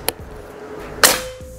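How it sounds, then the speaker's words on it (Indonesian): Two sharp, short pops from a Mouser Klasik OD 32 PCP air rifle, a faint crack first and a louder snap about a second later, each with a brief ringing tail. "tembakan yang keempat"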